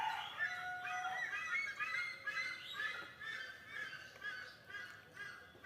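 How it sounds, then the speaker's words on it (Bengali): Birds call all around on a foggy rural morning, overlapping honking, fowl-like cries and chirps that repeat steadily at mid distance with no one speaking. "চারিদিকে পাখির ডাক।"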